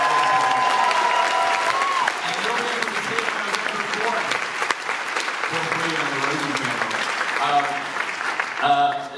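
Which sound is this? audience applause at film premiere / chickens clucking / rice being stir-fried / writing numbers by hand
audience applause at film premiere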